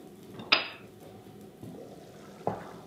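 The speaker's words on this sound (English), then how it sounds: "Let's give those sloppy joes a stir" Spoon scrapes and clinks against a pot of cooking sloppy joes, three separate metallic knocks spread out over a low simmering background.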